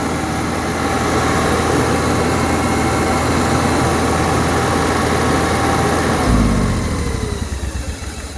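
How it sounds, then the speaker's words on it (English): Onboard generator of a 2001 Winnebago Adventurer motorhome running with a steady, loud mechanical drone that changes abruptly near the end, its low hum dropping out and shifting as the engine note settles. "Generator fires."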